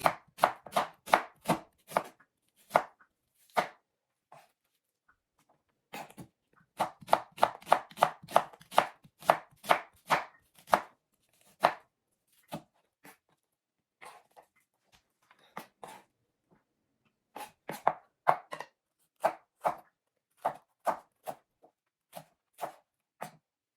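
A knife chops sweet red onion on a cutting board in crisp, rapid bursts of knocks, broken by short pauses, close and alone.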